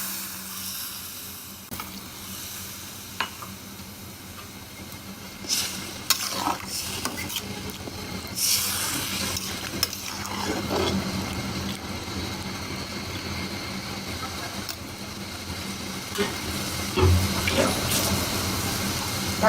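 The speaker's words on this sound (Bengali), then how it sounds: "সবজিটা কষানো হয়ে গেছে, এই কারণে ঝোল দিয়ে দিচ্ছি।" A dried-fish and eggplant curry simmers and sizzles in a pan as broth is poured in, with steady frying hiss, occasional stirring scrapes and liquid sounds throughout.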